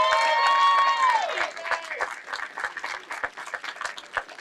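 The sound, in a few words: crowd applause at march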